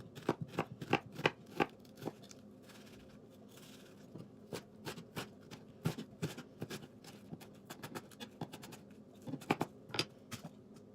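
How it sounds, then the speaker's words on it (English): A knife chops an onion on a cutting board, a steady run of sharp, close taps, some in quick bursts, continuing for several seconds with no talking. "So my onion is chopped."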